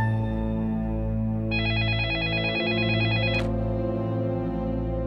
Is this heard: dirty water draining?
no